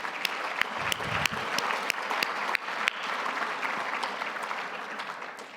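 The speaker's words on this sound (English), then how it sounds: "let's give them one more round of applause." A crowded hall of fame induction audience applauds steadily, dense clapping holding at an even, fairly loud level throughout with a few sharper claps standing out.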